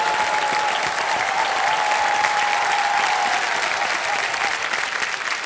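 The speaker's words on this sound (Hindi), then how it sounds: "जोरदार तालियों के साथ उनका स्वागत" A television quiz show studio audience applauds loudly and steadily to welcome the contestants, a dense sustained clapping that carries on for several seconds and fades slightly at the end.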